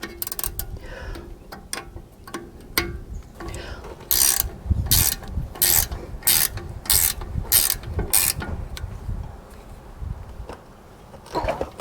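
A ratcheting wrench clicks in quick bursts while snugging a bolt on the rear brakes of a 2010 Chevrolet Silverado, the metallic ticks close and crisp, running in uneven rhythmic runs with pauses between strokes.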